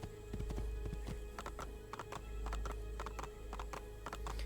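Horse hooves clip-clopping in the video game Assassin's Creed 2, a steady run of sharp, evenly spaced clops close by, with a brief whinny and a low game rumble beneath.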